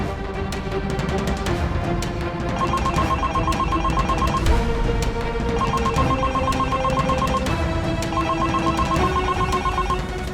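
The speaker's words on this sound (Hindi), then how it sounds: "फोन नहीं उठा रही है।" A telephone rings on and on with a steady repeating electronic trill pattern, loud and continuous over a busy mix of background music, with no one answering the call.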